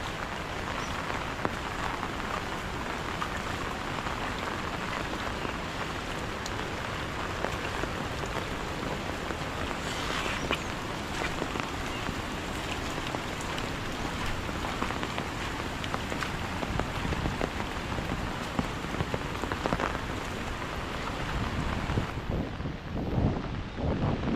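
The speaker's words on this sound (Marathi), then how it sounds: "आणि आत्ता थोडा थोडा पाऊस कमी झाला आहे" Heavy monsoon rain in Konkan falls continuously, a loud dense patter with gusty wind noise against the microphone, cutting off abruptly at the very end.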